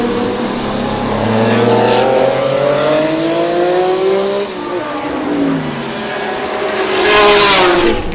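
A BMW CSL race car's production-based six-cylinder engine revs hard toward 9,000 RPM, its rising, falling howl loud and close, sweeping up through several gear-like climbs before surging again near the end.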